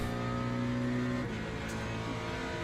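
An LMP2 prototype race car passes in the Le Mans Ultimate multiclass racing game, its loud, steady engine note dropping in pitch midway as it goes by, alone with no voices.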